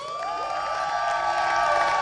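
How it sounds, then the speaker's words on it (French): A warm studio audience at a French-language television show cheers and whoops in a dense, steady wash of crowd noise, loud and sustained throughout with no clear individual voices. "j'aimerais bien qu'on applaudisse, qu'on dise un grand merci à ce public vraiment très chaleureux"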